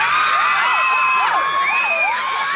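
A concert crowd in Chiang Mai screams and cheers loudly and continuously, shrill voices rising and falling in a dense wall of noise with no pauses.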